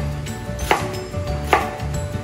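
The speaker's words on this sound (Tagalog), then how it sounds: "just cut it into small chunks. Like that, like cubes" A knife chopping cabbage into small cubes on a board, a few sharp, close cuts spaced apart over a steady background hum, no talking.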